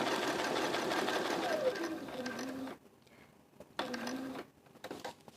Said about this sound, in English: Now I'm just going to sew across the bottom here and come back up